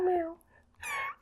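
A person imitates a cat's meow with two drawn-out, wavering meows separated by a short pause, loud and close, amid casual podcast-style chatter among friends.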